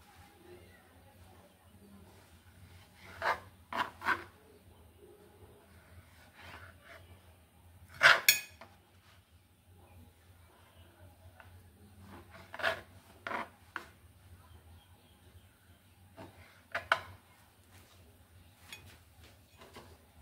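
A knife saws through the crusts of bread slices to trim them evenly for malai rolls, producing faint, close scraping bursts in separate clusters with quiet pauses between.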